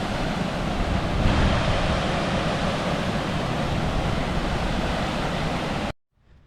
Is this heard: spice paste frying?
no